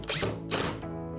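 Screws being driven into a wooden art crate by a power driver, two short whirring bursts close by, each trailing off into a faint lingering hum.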